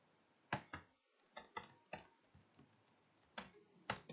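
Computer keyboard typing during spreadsheet work, a sparse run of separate clacky keystrokes with short pauses, close and fairly quiet, no talking.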